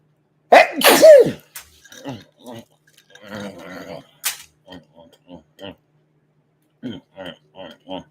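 A pair of sharp, loud sneezes opens, followed by scattered short bursts that sound like sniffles and muffled voices, with one more quick sharp burst midway.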